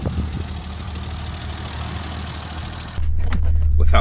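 A 1987 BMW 325i E30 convertible sits idling, its engine a steady low rumble that abruptly gets louder and deeper near the end as the revs rise.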